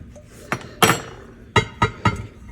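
A metal spoon knocks against a pan in a home kitchen, with five sharp, ringing clinks at irregular intervals, close and clear over quiet background.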